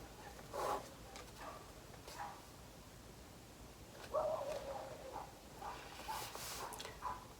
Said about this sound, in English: They like to bark at each other all the time.